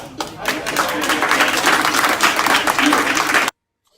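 An audience breaks into loud, dense applause that holds steady for several seconds, then cuts off abruptly.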